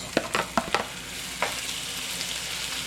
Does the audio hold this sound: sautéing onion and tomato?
yes